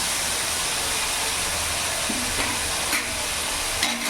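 Potatoes fry with salt and turmeric in a hot pan, a loud, continuous sizzle close up with faint stirring scrapes.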